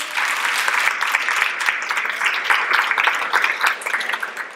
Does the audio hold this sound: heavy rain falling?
no